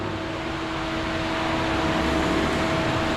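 Electric fan running indoors, a steady broadband whoosh with a faint tonal hum that holds level and fairly loud throughout, with no voices.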